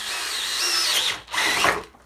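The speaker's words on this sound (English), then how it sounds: "So I'm just going to drill it down to about the length of the drill bit" A powerful drill with a large auger bit bores into material while making a rocket stove, a loud, steady, high whine that dips briefly, then surges again before easing off, close up with no talking.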